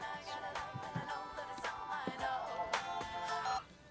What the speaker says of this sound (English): she's revealed to have changed her mobile phone's ringtone to exactly that